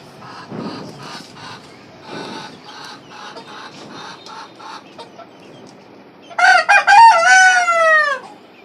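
Desi hens cluck in short repeated bursts in cages on a rooftop poultry farm, then a rooster crows loudly and close near the end.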